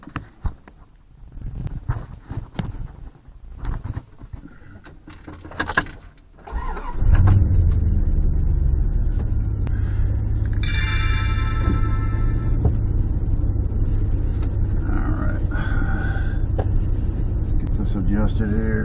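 Dodge Dakota pickup truck on a test drive after a rack and pinion install and string alignment: a quiet interior with rustling, then the engine rumbles up and settles into a steady, loud low drone of driving.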